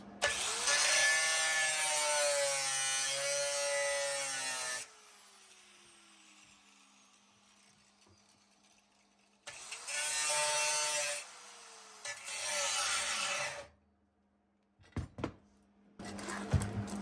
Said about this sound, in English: get a small cutoff disc and open that up a little bit